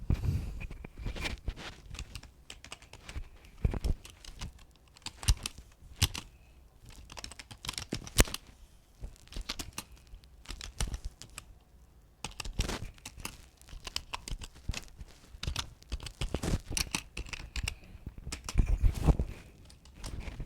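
Steady clicking of keys on a computer keyboard, close and fairly quiet, with irregular bursts and short pauses while a PowerPoint slide is being typed, with no speech.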